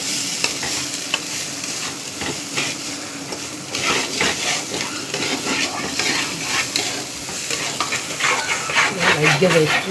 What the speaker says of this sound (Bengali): এই কড়াইটা একটু তাড়াতাড়ি নাড়তে হয়।